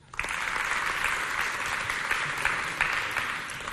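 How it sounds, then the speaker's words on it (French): An audience claps for a little girl's singing at a children's holiday contest event, a sustained round of applause that rises quickly and stays steady to the end. "on applaudit pour elle"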